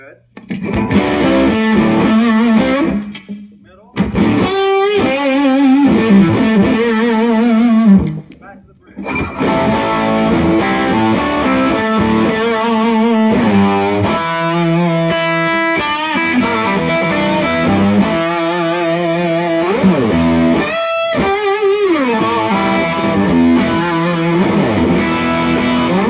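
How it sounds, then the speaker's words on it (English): Bruton Effinity electric guitar on its neck pickup, played through effects with a touch of distortion, sounding loud and close in a steady run of chords and sustained notes with a couple of brief pauses, no talking. "Neck position sounds just as good."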